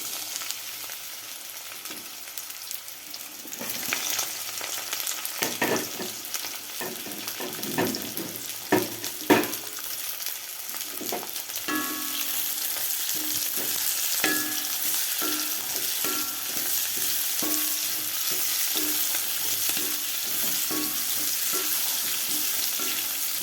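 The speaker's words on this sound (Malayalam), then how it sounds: "ഈ പാവയ്ക്കയും ഈ പച്ചമുളകും 2 കറിവേപ്പിലയും കൂടി ഇട്ട് നമുക്ക് നന്നായിട്ട് വഴറ്റിയെടുക്കാം." Bitter gourd, green chilli and curry leaves sauté in hot oil for a Kerala theeyal: loud spatula scrapes and clatter at first, then a dense, even sizzle that carries steadily to the end, with no talking.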